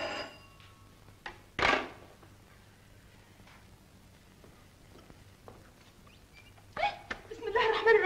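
A telephone rings in a scene from an Egyptian film set in a guesthouse, with a few short rings spaced apart amid quiet room sound, and voices speak near the end.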